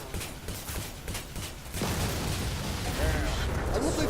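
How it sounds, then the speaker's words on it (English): Loud, dense explosions and booming bursts from the space combat game Star Conflict, rumbling continuously and growing heavier partway through. "I love the explosions in this game, they're really good."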